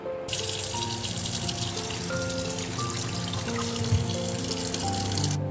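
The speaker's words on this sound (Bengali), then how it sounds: "ঝরানোর পর এটাকে একটু ঠান্ডা জল দিয়ে ফের আমি একবার ধুয়ে নেবো" Cold tap water runs steadily over taro stolons in a basket, a continuous close splashing and trickling rinse in a home kitchen with no voices.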